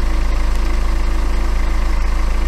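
A BMW N47 diesel engine idles steadily and loudly up close, a rapid even pulsing with a faint metallic timing-chain rattle layered over the low drone.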